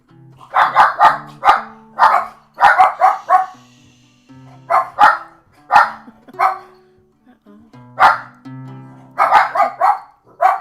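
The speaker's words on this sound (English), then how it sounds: "It's the doggies." Several dogs bark in irregular clusters of sharp, close, loud barks with brief gaps between volleys, and no talking over them.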